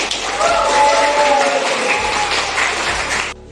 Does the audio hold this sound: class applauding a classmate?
yes